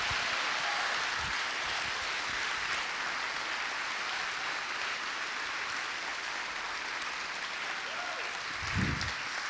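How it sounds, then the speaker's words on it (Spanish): A church congregation at a large conference applauds, a dense sustained clapping that fills the hall evenly for several seconds before a voice briefly rises near the end. "aplauda a Cristo Jesús."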